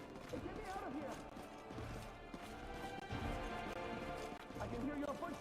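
Footsteps in the Pathfinder: Wrath of the Righteous video game, a dense run of clopping, thudding steps mixed with game music and voices throughout.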